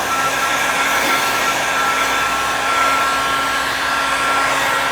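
A heat gun blows hot air over vinyl wrap on an Abarth 124 Spider, a loud, steady whooshing roar with a faint whine that holds unbroken from start to finish.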